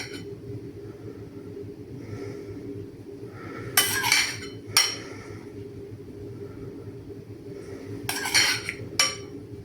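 A spoon clinks against a dish in two short bursts of sharp metallic taps while cream is spread over a homemade pizza-style quiche, set against a low steady kitchen hum.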